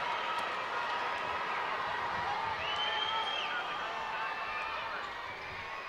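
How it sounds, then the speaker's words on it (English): Arena crowd noise during an NBL Canada basketball game between the London Lightning and Windsor Express after a big made shot by Marvin Phillips, a loud steady roar of cheering voices filling the whole stretch and easing slightly at the end. "Listen to that crowd."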